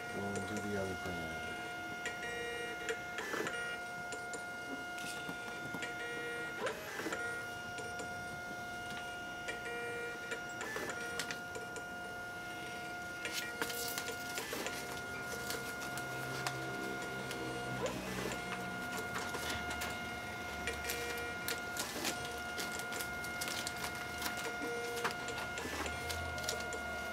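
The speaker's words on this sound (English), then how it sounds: "Scan form going to the other printer." A printer in a small shipping workspace runs off a scan form, ticking and clattering in a steady repetitive rhythm of mechanical pulses, with people talking quietly in the background.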